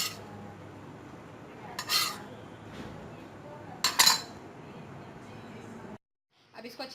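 Tuna fish salad is mixed in a bowl, with soft scraping broken by a few sharp clinks of a utensil against the dish, close and fairly quiet.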